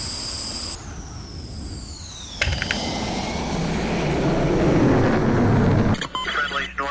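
An F-16D jet engine roars after takeoff in the flight simulator Falcon BMS, a loud sustained rumble that swells and thickens, with whining tones and clicks early on and a sharp change near the end.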